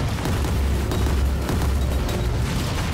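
Explosions in the video game Resogun pile up as dense, booming bursts over a constant rumbling wash, loud and layered with sharp pops scattered throughout.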